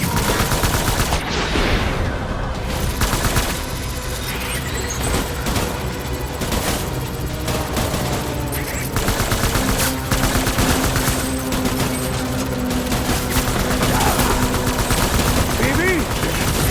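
Dense gunfire rages in the video game Death Stranding: sustained automatic bursts and shots pile up loudly over a constant roar, with voices shouting now and then.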